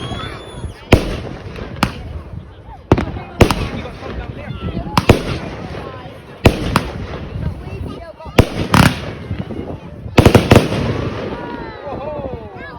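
Fireworks going off at close range on bonfire night at a church: a run of sharp, loud bangs and crackling bursts spaced through the stretch, with crowd voices and chatter underneath.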